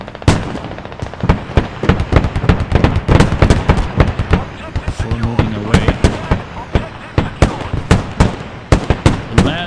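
Heavy gunfire in the Squad military video game, with loud, rapid bursts of automatic shots and sharp single cracks. The shooting runs almost without a break, with a few short pauses.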